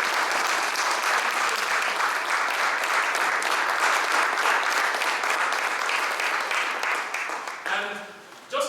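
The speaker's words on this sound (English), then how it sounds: "I want us to rise up and just give a resounding applause to Mr." An audience at a Nigerian Youth Congress inauguration in London applauds Mr. Alistair Shirley, a dense, sustained wash of clapping that fills nearly the whole stretch before dropping away at the end as a voice comes in.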